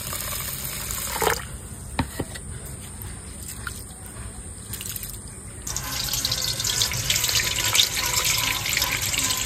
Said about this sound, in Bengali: এই যে চালটা আমি ধুয়ে নিচ্ছি ভালো করে।